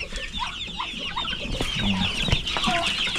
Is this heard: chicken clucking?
yes